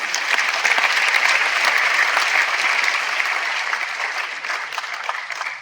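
Seminar audience applauding in a large hall, a dense, even wash of many hands clapping that fades slightly toward the end.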